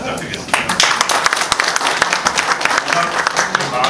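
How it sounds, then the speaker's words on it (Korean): Audience applause at the close of an IP finance forum discussion, a dense, loud, sustained clapping from a crowd, steady throughout. "다시 한번 박수"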